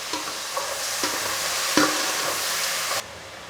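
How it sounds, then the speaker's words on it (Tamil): Onions and tomatoes sauté in a pan for a Tamil fish curry, giving a steady, close sizzle with occasional spoon scrapes and stirs. The hiss cuts off sharply near the end. "வெங்காயம் தக்காளி நல்லா வதங்கட்டும்."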